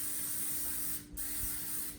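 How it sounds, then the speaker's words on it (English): Cooking spray hisses onto a pan in one steady burst of about a second, then a brief pause and a second short spray, close and fairly loud with no talking. "we need to spray our pan"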